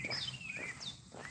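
Faint high chirps and whistled bird calls sound briefly against quiet background noise, with soft thuds like footsteps beneath.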